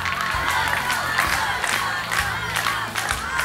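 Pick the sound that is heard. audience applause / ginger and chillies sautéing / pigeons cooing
audience applause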